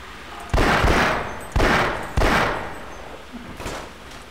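Four loud gunshots ring out in the Half-Life: Source video game, each a sharp blast with a long decaying tail, spaced unevenly about a second apart.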